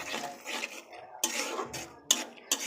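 Turmeric and chilli spices being sautéed in a pan with a utensil, heard as a series of scraping, rubbing strokes in uneven bursts, with a few sharper metallic clinks near the end, close and moderately loud with no talking.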